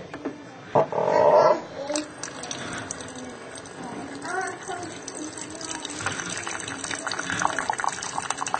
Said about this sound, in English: during which hot water will flow into your cup or mug